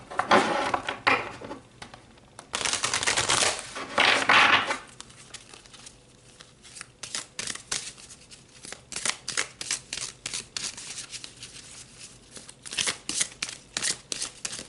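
Tarot cards shuffled and pulled from the deck, with bursts of riffling flutter early on followed by a string of soft slaps, slides and flicks as cards are drawn, close and alone.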